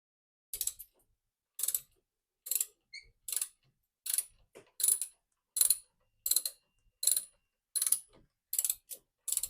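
A Gator Grip universal socket ratchets a locking nut loose in a steady run of about a dozen sharp, close mechanical clicks, evenly spaced with brief silences between, no voices.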